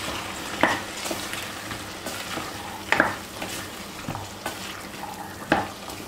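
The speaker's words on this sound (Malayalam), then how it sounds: "നമുക്കിതിലേക്ക് 8 മണിക്കൂർ സോക്ക് ചെയ്ത് വെച്ചിരിക്കുന്ന ചന്ന ചേർക്കാം." Soaked chana stirred into sizzling masala in a pressure cooker, with a soft constant fry under three sharp metallic scrapes and knocks spaced a couple of seconds apart, close and without talk.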